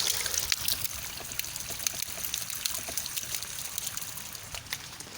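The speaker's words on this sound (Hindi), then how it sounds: "ये टैंकी भर गई है, इसका वाल बंद कर दूं, पानी ज़ाया हो रहा है।" Water overflows from a filled tank in a small vegetable garden, a steady splashing and trickling stream falling continuously, close and moderately loud with no talk.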